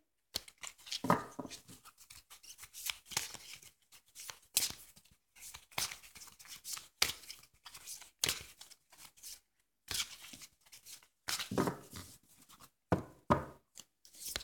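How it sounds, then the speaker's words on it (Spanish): Quiet, irregular papery rustles and soft slaps of tarot cards being handled and shuffled close up, in short bursts with brief pauses. "Vamos a barajar un poco las cartas"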